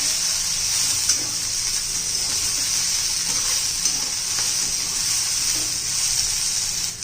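Cluster beans with green chili and garlic sizzle and fry steadily in hot oil, a constant close hiss with faint stirring scrapes throughout and no talking.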